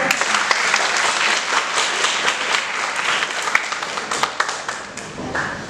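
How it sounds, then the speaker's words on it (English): A crowd claps steadily for several seconds, a dense patter of many hands that thins slightly toward the end. "Please clap for yourself."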